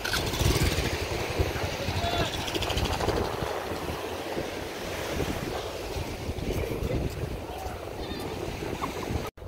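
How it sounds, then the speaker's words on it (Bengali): Ocean waves breaking on the rocky shore of Patuartek beach near Cox's Bazar: a steady, loud wash of surf mixed with heavy wind buffeting against the microphone. "গাইস যে ঢেউ আর এত শব্দ"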